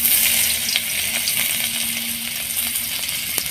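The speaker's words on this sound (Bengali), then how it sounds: "ওই তেলের মধ্যে দিয়ে দেবো রসুন আর পেঁয়াজ কুচি" Chopped garlic and onion dropped into hot oil left from frying vegetables, a loud close hiss and crackle that starts strong and settles into a steady sizzle, with a few light clinks.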